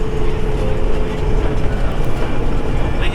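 Road train truck on an outback highway in Australia, a loud continuous rumbling roar of heavy wheels and engine passing close, steady for a few seconds with no talking.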